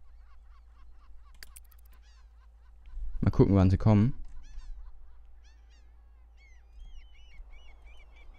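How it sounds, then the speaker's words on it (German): Birds honking in The Sims 3, heard as faint, scattered calls over a quiet game background, with a short burst of speech partway through. "Das sind nur Vögel, okay."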